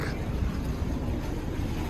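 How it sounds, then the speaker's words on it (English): Low rumbling water and boat noise near a moored Soviet submarine at a San Diego harbor, with wind buffeting the microphone throughout; a pilot boat is returning, heard as a steady broadband wash with no distinct engine note. "I think that's the pilot boat that's coming back."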